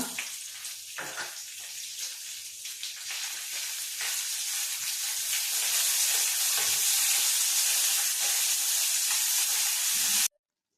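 Steady, loud sizzling of a tempering of chillies, cashews and curry leaves in hot ghee, building and holding, close up, then cutting off abruptly at the end.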